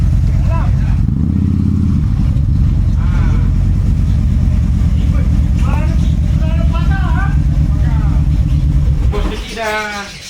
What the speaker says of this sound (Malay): Kita masukkan motor jap.